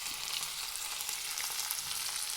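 Onions sizzle in hot oil in a pan with ginger garlic paste stirred in for a mutton curry, a steady dense frying hiss heard close and alone with no talk.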